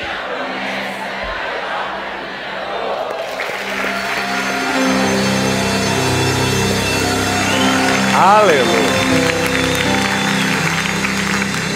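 A church congregation breaks into loud applause and shouting that swells after a quieter start, the clapping and cheers continuing densely throughout, with a voice over the amplified room.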